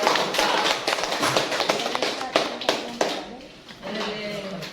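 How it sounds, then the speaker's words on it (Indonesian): A classroom of students applauds for a student group, a dense burst of clapping that runs for several seconds and then thins out toward the end. "berikan aplaus untuk kelompok 4"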